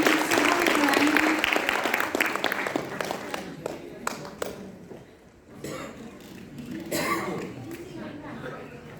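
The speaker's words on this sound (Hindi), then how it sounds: "आपकी ये तालियां हमें सबक सिखाएंगी।" An audience at a cultural function by blind artists claps loudly, then the applause thins and fades, giving way to scattered claps, coughs and low murmuring.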